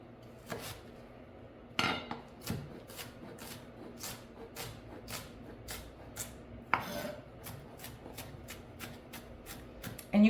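A knife chops an onion finely on a cutting board, giving rapid, evenly spaced crisp taps in a steady rhythm, with a few heavier knocks between runs, close and clear.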